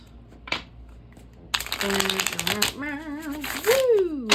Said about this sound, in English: have a good several obnoxious riffle shuffles